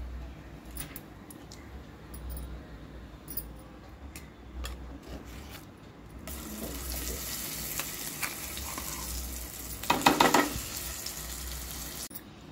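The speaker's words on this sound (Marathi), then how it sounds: "आता आपण टाकणार आहे मसाला जो आपण रेडी करून घेतला होता." Spice masala fries in hot oil with cumin and curry leaves, starting as a low simmer before the sizzle jumps louder and brighter when the masala goes in, with a brief sharp crackling burst midway.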